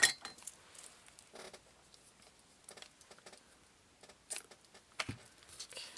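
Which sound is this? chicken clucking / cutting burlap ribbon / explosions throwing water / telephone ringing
cutting burlap ribbon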